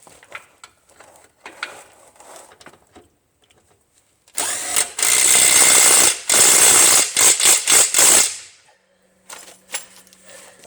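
Bolts on the front end of a 2004–2007 Toyota Highlander are tightened with a ratchet, giving scattered quiet clicks, then a loud close burst of fast ratcheting in several runs, followed by a few softer clicks.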